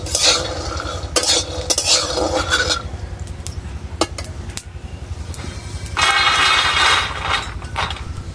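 Peanuts being stirred while roasting in a pan, giving scraping and rattling bursts of nuts against metal with a faint sizzle, loudest early on and again near the end, with no talking.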